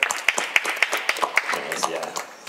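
A live audience at a 2020 Batalla de los Gallos champions' freestyle rap event claps for the champion Skipper in quick, sharp, fairly even claps that thin out and fade toward the end.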